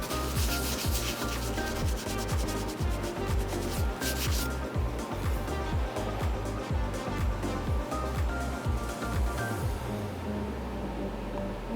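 Finish is rubbed by hand onto a handmade bushcraft knife, making a fast, rhythmic scrubbing that repeats steadily and close up, loud and continuous before easing off in the final seconds.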